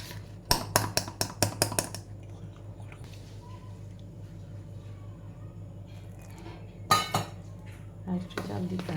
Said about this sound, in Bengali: অল্প অল্প জল দিয়ে দিয়ে এটাকে স্মুথ একটা ব্যাটার তৈরি করতে হবে।